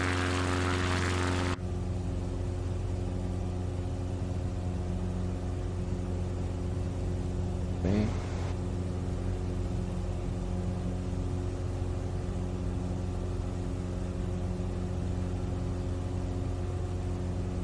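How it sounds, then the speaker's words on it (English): A propeller airplane engine in Microsoft Flight Simulator 2020 drones steadily and evenly throughout, a smooth, close, tonal hum with only a brief blip partway through. "Soothing sound of the plane's engine."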